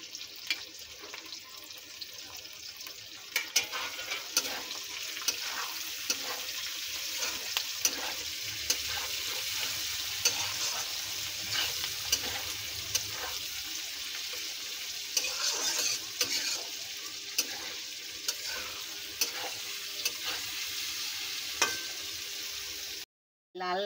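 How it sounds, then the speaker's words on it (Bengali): Onions and potatoes frying in a pan, stirred steadily with a spatula; a continuous bright sizzle runs throughout with repeated scraping strokes, close and fairly loud, no talking. "পেঁয়াজ আলু এইভাবে ভালো করে নেড়ে নেব"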